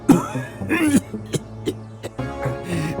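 A few harsh coughs near the start, followed by throat clearing and muffled vocal sounds, close up.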